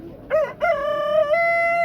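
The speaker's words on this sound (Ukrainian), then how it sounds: "О, тут курей, цілий прилавок." A single loud rooster crow close by at a poultry stall in a Ternopil livestock market, starting with choppy notes and stretching into a long sustained call.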